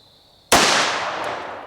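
A 10-year-old fires a single gunshot at a target outdoors, a sudden loud close crack followed by a long echoing decay that slowly fades.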